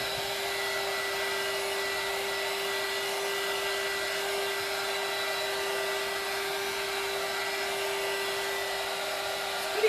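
A heat gun blows hot air over fresh paint on a fall pumpkin decoration, a steady, loud whooshing drone with a constant whine running unbroken and close up, with no talking.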